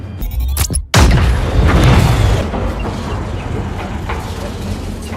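A bomb hidden inside a doll detonates in the film Okay Madam: a sudden loud blast after a brief moment of silence, followed by a long rumbling, crackling decay that fades over several seconds.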